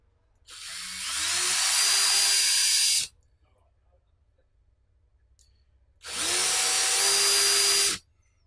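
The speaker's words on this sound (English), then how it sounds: "So I'm going to drill 5 holes in a domino pattern." A power drill whirs up close in two separate bursts of a few seconds each, drilling holes into a plastic Game Boy Macro case, with quiet between them.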